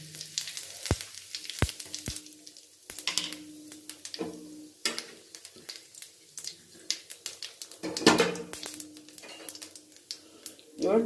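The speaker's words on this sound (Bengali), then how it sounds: "এবার ফোড়নে দিয়ে দিচ্ছি গোটা জিরে, একটা তেজপাতা, একটা শুকনো লঙ্কা আর একটু হিং ফোড়ন।" Whole cumin, a bay leaf, a dried chilli and a pinch of hing hit hot oil in a kadai, giving intermittent close crackles and sizzling bursts with scattered clinks and quiet pauses between.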